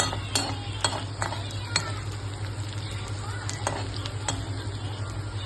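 Green chillies sauté with browned onion in a pan: a steady sizzle runs underneath while a spoon clinks and scrapes against the pan in irregular taps, close by.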